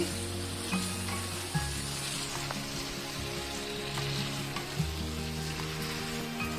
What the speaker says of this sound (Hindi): अब ये भिंडी डाल दूंगी इसमें, और इसे मिक्स करेंगे।